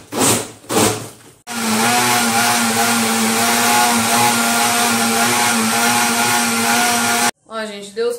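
A blender whirs loudly and steadily for about six seconds while making strawberry pineapple juice in a home kitchen, with someone talking briefly before and after it runs.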